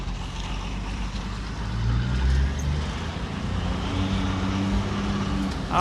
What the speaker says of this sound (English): Oh, I hear the turbo.